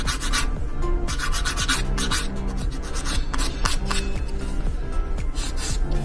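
A sanding file rubs back and forth across a fingernail in quick, steady strokes, close and rasping, about a dozen passes over several seconds.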